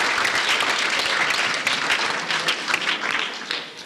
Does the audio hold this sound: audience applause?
yes